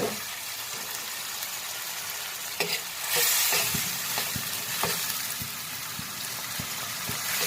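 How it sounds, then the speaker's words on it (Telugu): Ginger garlic paste frying with onions in a pan, a close crackling sizzle that surges briefly, punctuated by regular sharp scrapes and taps of a stirring spoon, without speech. "ఇది వేసి మనం ఫ్రై చేసి తర్వాత టమోటా వేస్తున్నాము"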